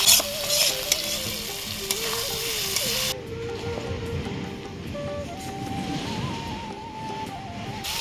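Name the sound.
potatoes and green chillies frying for aloo dum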